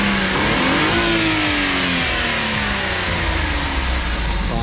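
Turbocharged engine of a Suzuki DA64V mini van revving loudly and steadily, pitch sweeping up and down through several throttle blips, close and continuous with no talk.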